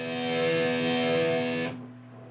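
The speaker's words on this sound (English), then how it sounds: "this is a distortion pedal." A sustained, heavily distorted electric guitar chord through a distortion pedal rings loudly, then is abruptly cut off, leaving a faint low hum.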